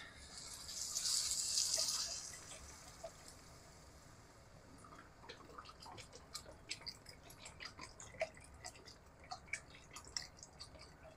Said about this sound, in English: And then it'll be time to add our box of broth